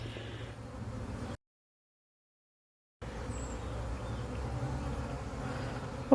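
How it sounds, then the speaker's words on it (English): Many bees buzz busily in a spring garden, a dense, continuous hum of swarming insects close by, briefly cut to silence before resuming. "We have so many bees here."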